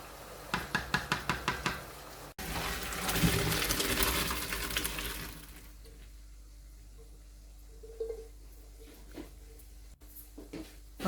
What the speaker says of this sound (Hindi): स्ट्रेनर में पास्ता को मैं छान लूँगी।